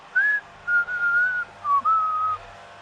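A person whistles a short melodic tune in a few clear phrases, close and fairly loud, with brief pauses between notes.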